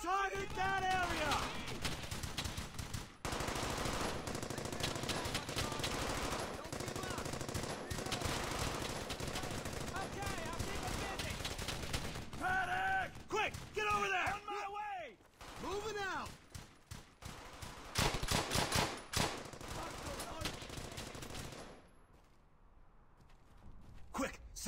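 Gunfire in Brothers in Arms: Hell's Highway, a World War II shooter, with near-continuous automatic bursts and single cracks, louder and then more scattered, fading out at the end, under soldiers' shouted voices.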